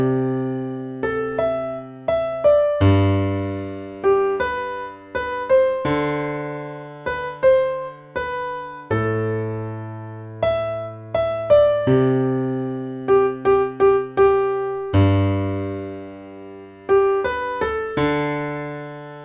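A piano plays a song with both hands. Chords and bass notes are struck in a steady rhythmic pattern with clear attacks that ring and decay. The playing is close and solo, with no voices.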